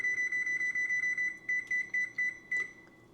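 A digital oven control panel beeps in a quick regular series of short electronic tones, pausing briefly before a few more spaced beeps, close and clear with no talking, while the oven is being set to preheat to 450 degrees.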